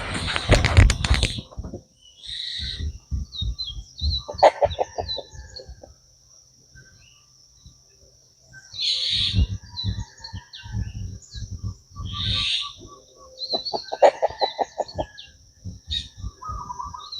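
An outdoor bird calls in agitated bursts after a cat almost catches it, with loud squawks and clucking cries separated by quiet gaps over about seventeen seconds, close and sharp, with no talk.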